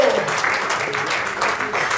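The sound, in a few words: applause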